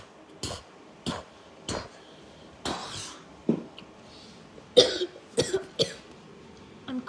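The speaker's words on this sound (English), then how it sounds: "I'm coughing" A person coughs repeatedly in short, separate bursts, some sharper and closer together toward the end, with no talking.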